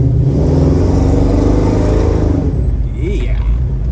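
The engine of a 1978 Chevrolet Nova with a 10-bolt Posi-traction rear end revs loudly up close, with a dense, throbbing rumble that holds steady and then eases slightly near the end.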